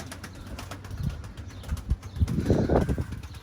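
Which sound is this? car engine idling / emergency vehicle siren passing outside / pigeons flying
pigeons flying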